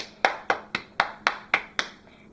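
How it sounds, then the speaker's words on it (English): Wet hands clapped together to sprinkle water over a plant, seven sharp, evenly spaced claps about half a second apart, close and fairly crisp, with no voices. "And then you just spread more water and then clap again."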